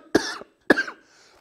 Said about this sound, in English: I'm going to have to cough